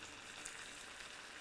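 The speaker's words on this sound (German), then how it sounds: "Weiterhin schön anbraten." Bacon and onion sizzle steadily as they fry in a pan, a soft, continuous crackle with no talking over it.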